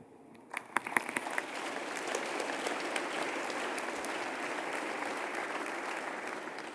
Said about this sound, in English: Everyone, please give them a round of applause.